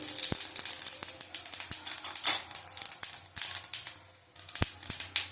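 Panch phoron tempering in hot oil, a close, continuous crackling sizzle with frequent sharp pops and spits throughout.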